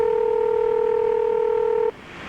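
Telephone keypad touch tones sound as a number is dialed, a steady dual-tone beep holding loud and close for about two seconds before cutting off into low hiss.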